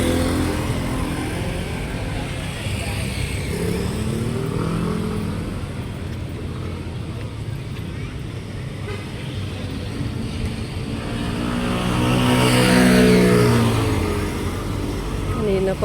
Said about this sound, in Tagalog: Kanina pa itong sasakyan na to.